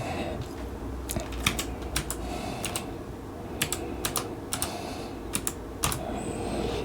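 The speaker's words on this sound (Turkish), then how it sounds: "Şimdi hemen klavyemizden ben bir girişimi yapayım." Typing on a computer keyboard in an indoor setting: a steady run of clustered key clicks with sharp, close bursts over a low background hum, no talk.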